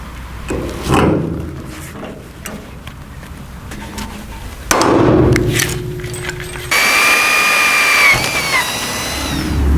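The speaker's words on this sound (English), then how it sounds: "I'll have one in the middle to drill" A power drill bores a hole in a car bracket in a home garage, with clattering handling noises first, then a steady whirring drill run, and finally a louder, higher-pitched whine near the end.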